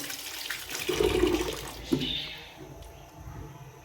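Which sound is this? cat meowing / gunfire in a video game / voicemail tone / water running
water running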